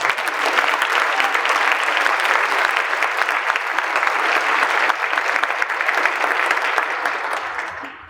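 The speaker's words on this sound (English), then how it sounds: "let's give them another round of applause" A concert audience at a university holiday dinner claps steadily in a dense, continuous wash of applause that holds at an even level for several seconds before tapering off at the end.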